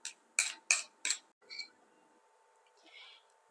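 A spoon scrapes mashed banana out of a bowl into a mixture, giving four quick, bright clinks against the bowl, then softer scraping and faint handling noise.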